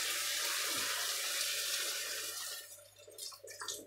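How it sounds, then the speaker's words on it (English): Water pours steadily from a tap into a pan of cooking vegetables. The stream runs loud and constant, then breaks into uneven splashes and trickles as it tapers off. "I'm just gonna add a little bit of water to that."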